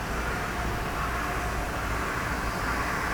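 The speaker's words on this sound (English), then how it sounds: "That high-speed spindle right there." A high-speed electric spindle near 1800 RPM mills a Torx pattern into titanium screws: a steady, dense machining roar with a hissing wash that holds unchanged throughout, with no speech.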